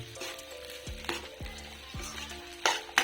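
A spoon scrapes and stirs sabudana khichdi in a hot pan, several distinct knocks and scrapes against the metal over a low sizzle, close and clear with no talking.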